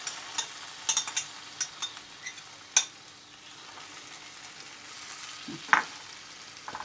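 Tomatoes frying in a pan for a stovetop pepper dish, a soft hissing sizzle broken by repeated clicks and scrapes of stirring, with a couple of sharper knocks.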